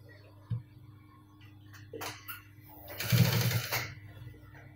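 Sewing machine stitching a cargo pocket, heard in short quiet bursts of running needle chatter with a longer, louder run near the end, set against a faint background hum.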